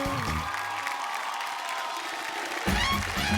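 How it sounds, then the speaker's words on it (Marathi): Audience applause breaks out on a Marathi TV game show for the third-place pair, a steady wash of clapping with a brief swell near the end. "रेखाताई आणि शरण्या यांची एकदा जोरदार टाळ्या होऊन जाऊ दे."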